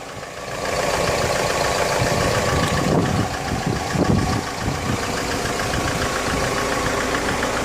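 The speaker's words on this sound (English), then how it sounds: "it's a remanufactured engine. Sounds very good." A remanufactured Mercedes Sprinter 646 diesel engine runs steadily at idle with a close, loud, continuous clatter and a faint knocking rhythm throughout.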